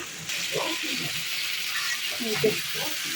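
Drumstick stems drop into hot oil with fried onions and spices for a lentil dish, giving a soft sizzle and a brief stirring clatter close by.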